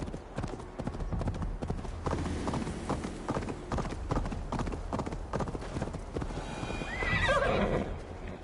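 In Assassin's Creed Valhalla, a horse's hooves clip-clop steadily throughout amid a busy ambient game mix, ending with a loud neigh and whinny near the end.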